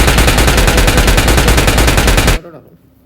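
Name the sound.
M416 rifle gunfire in a video game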